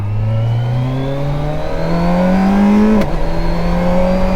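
Kawasaki Versys 1000 motorcycle engine pulling hard under acceleration, pitch climbing steadily, then a quick dip and recovery at a clutchless upshift, loud and close with wind rush, no voices.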